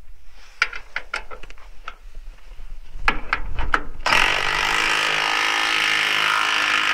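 Power tool tightening bolts on a UHMW poly cutting edge of a skid-steer snow plow: a few sharp clicks and taps, then a loud steady whirring buzz close by.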